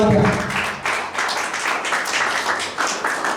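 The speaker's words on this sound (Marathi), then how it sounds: "टाळ्या वाजून प्रभूला धन्यवाद द्या." A church congregation claps hands together in thanks to the Lord during a Saturday blessing and healing meeting, a steady dense wash of many hands filling the hall, with a brief voice at the start.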